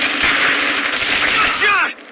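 Dense, continuous automatic gunfire from Call of Duty Mobile multiplayer team deathmatch roars loud and close, a sustained rattling burst that cuts off abruptly near the end.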